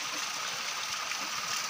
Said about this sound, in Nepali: यो पानी बगिरहेको छ